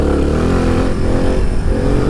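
A Suzuki DR 350 enduro motorcycle engine gives a short throttle blip, a loud, close, choppy burst of revs lasting about two seconds.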